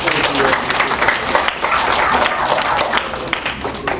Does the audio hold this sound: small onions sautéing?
no